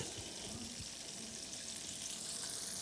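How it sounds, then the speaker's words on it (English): Continuous crackling sizzle of oysters frying in hot oil, a dense, steady hiss with small pops. "Fry, baby. Fry. She's frying."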